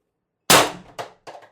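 A Umarex TR50 air rifle fed by a tether line from a 48 cubic inch tank with an adjustable regulator fires one sharp, loud crack that decays quickly, followed by two fainter, quick knocks.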